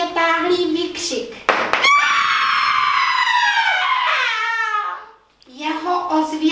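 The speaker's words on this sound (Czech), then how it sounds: "Náhle zazněl pronikavě táhlý výkřik." Long, piercing, drawn-out scream from a performer in a theatre production, rising sharply and holding for several seconds before tailing off, loud and close, with speech-like vocal sounds before and after it.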